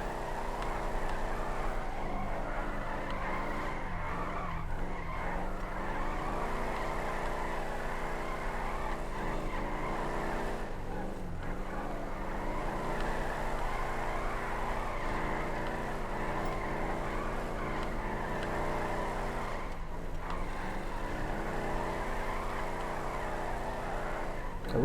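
Steady engine roar from a car drifting in GTA V, with repeated swelling tire squeals through the corners and no break in the drone.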